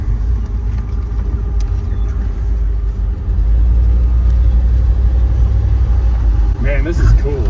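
A Guanci SSJ prototype sports car engine, not driven in 25 years, rumbles steadily at close range, growing louder midway, with a brief higher whine near the end.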